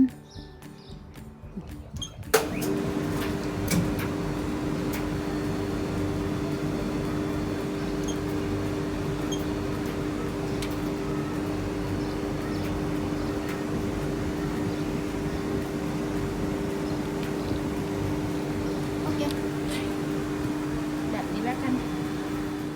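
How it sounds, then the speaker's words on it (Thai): A steady machine hum with a low tonal drone runs continuously after a brief start, an old clothes dryer tumbling at a campsite in Belgium, with faint clicks scattered throughout. "ตอนนี้เครื่องปั่นแห้งก็กำลังทำงานอยู่นะคะ"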